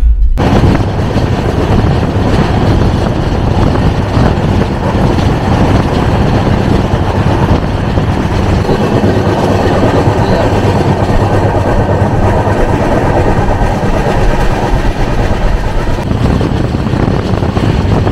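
The 15629 Chennai Egmore to New Jalpaiguri train pulls into Khurda Road junction with a loud, continuous rumble and rattle of wheels and carriages that holds steady throughout.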